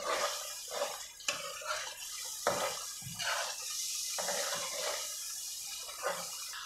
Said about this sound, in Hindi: अब मैं इसमें 1/2 कप पानी ऐड करूँगी और एक दफ़ा चिकन हल्का सा इसमें भून लूँगी।